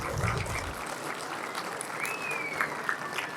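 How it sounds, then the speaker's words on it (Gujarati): An audience at a school jamboree's lamp-lighting and felicitation ceremony breaks into a dense, steady round of clapping that holds for the whole stretch, with a thin whistle-like tone rising briefly near the end. "તાળીઓના ગડગડાટ સાથે આપણે એક બીજાને વધાવીએ"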